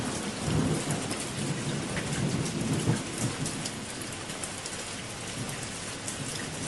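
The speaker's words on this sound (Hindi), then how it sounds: "उस रात आकाश में जोर की बिजली कड़कड़ाई और तेज रफ्तार से बारिश शुरू हो गई।" Heavy rain pours steadily with rolling thunder rumbling underneath, loud and continuous, no voices.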